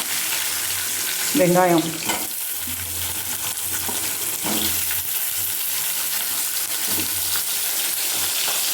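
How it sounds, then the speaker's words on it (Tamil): Urad dal, dried red chillies and onion frying in oil for spicy chutney, a steady near sizzle with stirring scrapes and a short spoken word over it. "இதோ நல்லா பொரியுது"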